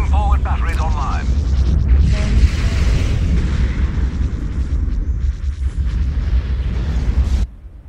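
Loud, continuous booming blasts and rumbling explosions with zapping laser cannon shots in a Star Wars video game space battle, dense and overlapping for several seconds before cutting off abruptly.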